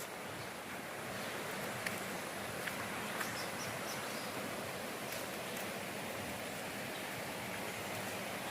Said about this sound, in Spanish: el sonido del agua donde cae la cascada.